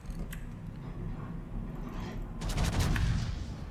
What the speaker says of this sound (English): Shooting the Republic's superstructure